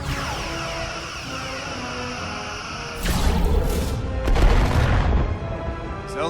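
Starship weapons fire in the Star Trek Resurgence video game: loud booming blasts burst in over a tonal bridge hum, with a second heavy salvo and fading rumble after it, no talk.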